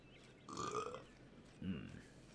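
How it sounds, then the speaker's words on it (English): Two short belches, the first drawn out and the second lower and brief, close to the microphone while a game's streamer plays. "Meat burps."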